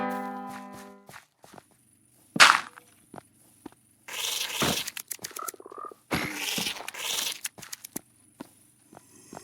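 Frogs croaking in Minecraft, scattered short croaks and rattling calls among bursts of blocky footsteps and other game effects, close and intermittent with quiet gaps between.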